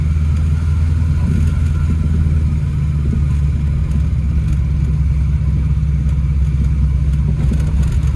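An old Saab 96 that sat for 36 years drives along with a loud, steady low engine drone and rumbling in the cabin. Faint knocks in the suspension from worn ball joints are barely apparent under the engine.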